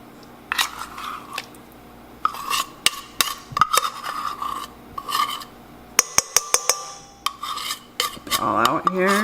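Peanut butter and butter going into a mixing bowl, with sharp utensil clinks and scraping knocks against the bowl in irregular bursts, close up with no talking.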